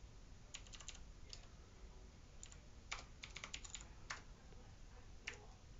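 Typing on a computer keyboard while entering git commands, quick bursts of soft key clicks separated by short pauses, faint and close over a low background hum.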